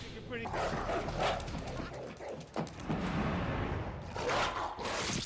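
Dogs bark and yip in a Resident Evil film scene, loud and busy in a dense soundtrack mix with voices and effects layered over them.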